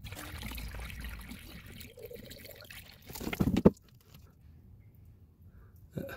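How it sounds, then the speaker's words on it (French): Water poured by hand into the cooling system of a Peugeot 106 1.1 during a coolant change, a close, steady trickling and gurgling that swells into a louder burst of sloshing before stopping, then a faint drip. "Donc j'ai remis de l'eau, ça continue à descendre."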